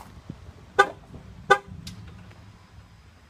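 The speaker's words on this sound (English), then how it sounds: "Got the double honk." Double honk from a Jeep horn set off by the remote, two short loud blasts about 0.7 seconds apart over a quiet idle background, followed by faint clunks.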